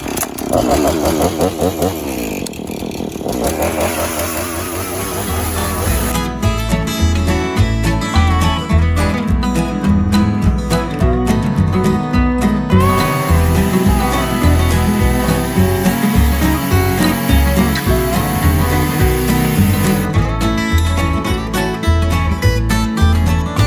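A loud chainsaw cutting a tree runs continuously, its engine droning and revving in steady bursts throughout, close by with no voices.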